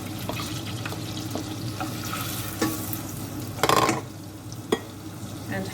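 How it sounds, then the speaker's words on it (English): Onion frying in melted butter gives a steady low sizzle with stirring scrapes, and a louder burst of crackle near the middle as the pieces hit the pan. "So now all the butter is melted, I'm going to put in the onion"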